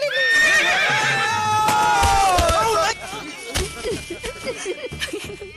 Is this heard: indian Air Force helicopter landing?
no